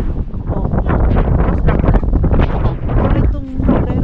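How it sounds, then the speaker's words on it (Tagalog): Strong outdoor wind buffets the microphone in a loud, continuous, gusty roar, with a brief faint voice partly buried beneath it. "Ang lakas din kasi ng hangin mga Mars."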